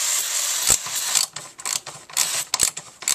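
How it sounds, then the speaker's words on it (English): A motorcycle brake disc bobbin spins with a dry, ratcheting mechanical whir, broken by sharp clicks and brief bursts of rattling, close and fairly loud with no talking. "The bobbin itself is spinning inside."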